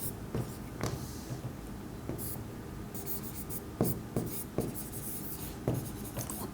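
Chalk or marker strokes on a board during a bookkeeping lesson, a series of short scratchy taps and squeaks at an irregular pace, close and fairly quiet with no speech.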